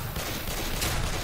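Rifle fire in the video game Left 4 Dead, a rapid dense burst of shots filling a brief moment.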